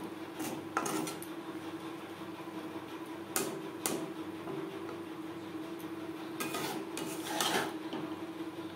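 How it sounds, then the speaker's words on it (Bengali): Roasted spice powder is stirred into mango pickle in a pot. Quiet scraping stirs are broken by several sharp clinks and knocks of the spoon against the pot's sides, coming at irregular intervals. "আমের আচারের সাথে বেশ ভালো করে মিক্সড করে দেব।"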